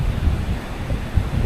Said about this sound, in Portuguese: O vento tá bem forte.